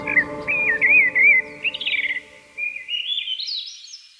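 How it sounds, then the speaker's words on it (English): Birdsong of warbling chirps and tweets, a bird singing in bright varied phrases with brief pauses, fairly close and clear over a low background hum. "we humans have never walked an Earth without birdsong"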